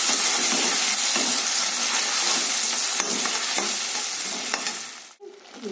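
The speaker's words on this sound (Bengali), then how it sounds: "টমেটোটা কষা হচ্ছে" Tomato and cashew masala sautéing in a wok, with a steady loud sizzle and scraping stirs throughout, then a sudden drop near the end as the heat or stirring stops, leaving quieter hiss.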